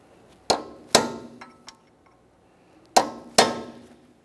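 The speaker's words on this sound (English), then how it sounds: "We're going to be using a hammer and punch to try to drive part of this nut down into that groove." Two pairs of sharp metallic clangs, a hammer striking a punch to stake an axle nut on a 2015-2019 Subaru Outback, each strike ringing briefly, close and loud with short pauses between.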